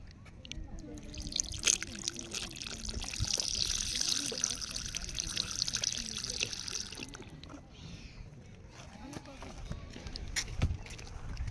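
Free drinking water pours from a dispenser in a Japanese shopping mall, a steady hissing trickle lasting several seconds and then stopping, with someone talking softly and the murmur of the surroundings underneath.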